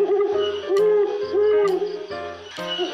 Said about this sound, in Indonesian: ada burung hantu